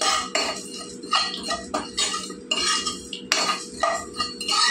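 A spoon stirs and scrapes dried coconut in a hot pan, giving bursts of metallic clinks and scrapes separated by short pauses, close and alone.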